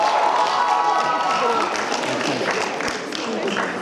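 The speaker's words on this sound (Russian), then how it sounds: "Аплодисменты!" A crowd claps and cheers at the start of a furry fashion show contest at a fan festival; dense applause mixed with voices and a shout, loud at first and easing slightly toward the end.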